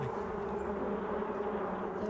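Wasps swarm and buzz around a nest in a continuous, dense, droning hum that stays steady and fairly close throughout, with no voices over it.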